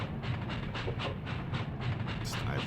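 Rumbling train from the video game Breath of Fire 3, a continuous loud rolling clatter with steady rhythmic pulses and a brief hiss near the end, no voices present.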